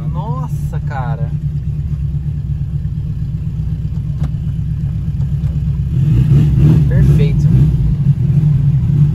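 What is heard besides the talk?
turbocharged car engine running and revving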